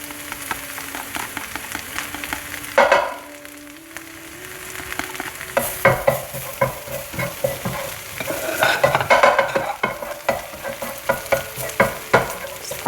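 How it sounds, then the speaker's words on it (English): Two cloves of minced garlic fry in a pan with a steady, close sizzle, broken by frequent spatula scrapes and clatters against the pan. No one speaks. "And then I'm going to add in 2 cloves of minced garlic."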